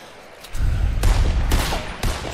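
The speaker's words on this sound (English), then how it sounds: "I'm shooting right at these guys, and I'm not hitting a shot" Bursts of gunfire in the video game Fortnite, several sharp shots and short volleys over a dense, continuous rumble, loud and close, no voices.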